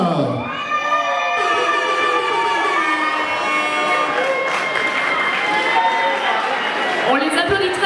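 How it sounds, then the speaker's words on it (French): A pageant audience cheers and claps for candidate number 11 and her escort at the Miss Cameroun Suisse 2016 final. The loud crowd noise runs continuously over sustained music tones. "On les applaudit très fort, elle et son cavalier, la candidate numéro 11."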